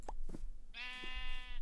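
Sheep bleating in the survival game Minecraft, one drawn-out, wavering bleat in the second half, preceded by a couple of short soft game thuds, with no talk.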